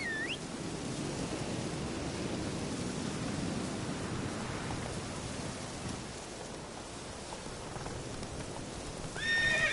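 A horse in The Witcher 3 whinnies briefly at the start and again near the end, over steady galloping hooves and a rain-like wash of noise.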